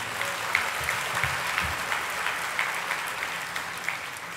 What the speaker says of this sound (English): So a special round of applause for the three of them.